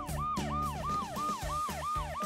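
A loud wailing ambulance siren sweeps up and down in quick repeated cycles, close by, with engine rumble underneath.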